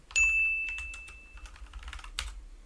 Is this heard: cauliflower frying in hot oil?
no